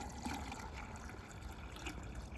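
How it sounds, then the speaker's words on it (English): Water pours steadily into a container meant for holding a plum plant cutting. A continuous soft rushing trickle stays even throughout and quiet, with no talk. "I'm going to fill up a container."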